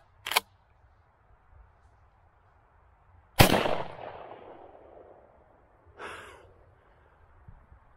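Three shotgun blasts of Dragon's Breath incendiary shells, fired outdoors. A short sharp first report is followed by a loud booming shot with a long fading tail, then a softer third blast, with quiet gaps between them.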